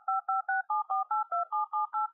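Telephone keypad tones dialed in quick succession, about ten short dual-tone beeps in an even, rapid rhythm, clear and alone.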